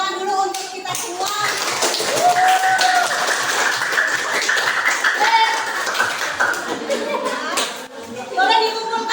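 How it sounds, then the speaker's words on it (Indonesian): A classroom of students claps together in a sustained round of applause, with voices and chatter mixed in throughout. "Ayo kita tepuk tangan dulu untuk kita semua."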